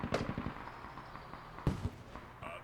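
Explosions during a Squad tournament match, a few sharp bangs with a louder blast near the middle, mid-distance over a busy battlefield background with no talk.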